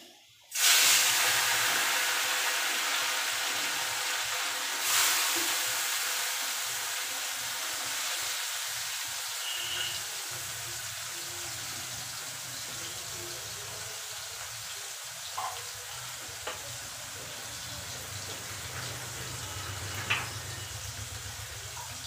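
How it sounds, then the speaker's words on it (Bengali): Small mourala fish frying in hot oil, a loud, steady, close sizzling hiss that starts abruptly and holds for the whole stretch, with a few faint clinks over it. "তেল গরম হয়ে গেছে, এবার মাছগুলো আমি ছেড়ে দেবো তেলের মধ্যে।"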